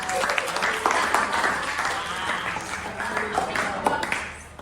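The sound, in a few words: classroom applause for a student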